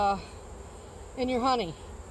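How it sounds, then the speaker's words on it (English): Honey bees and male drones in an open hive give two short, nearby buzzing bursts that rise and fall in pitch, separated by a quiet pause. "And these right here are your drones. These are the male bees."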